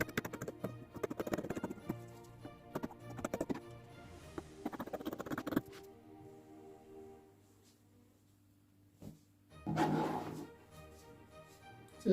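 Scissors cut through fabric for a cowl neck top, a series of close crisp snips and rustles in short bursts, followed by quieter handling and a final rustle of cloth.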